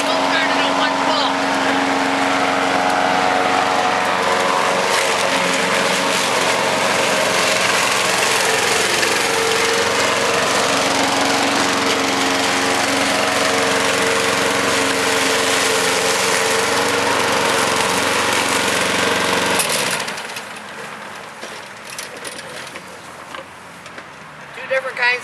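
A free, scrapped lawn mower's small engine runs steadily and loudly after starting, then cuts out near the end, leaving quieter rustling; a person talks over parts of it.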